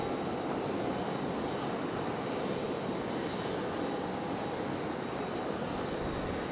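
Regional jets, a CRJ and a United Embraer E175, move around Raleigh-Durham International Airport, their engines giving a steady, broad roar at moderate distance with no voices.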